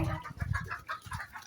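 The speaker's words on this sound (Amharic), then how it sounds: "እዚህ ጋር ዶሮ ነው ያለው" A chicken clucks in a series of close, rough, rhythmic calls, with no talking.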